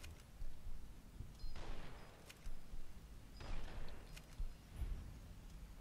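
Gunfire in the video game Fallout: Dust, several separate bursts of shots spaced a second or so apart over steady background noise, moderately loud.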